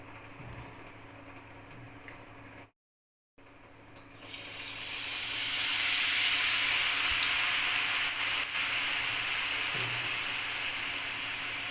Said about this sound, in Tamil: இப்போ நம்ம வந்து பூந்தியை வந்து எண்ணெயில் ஊற்றிக்கலாம்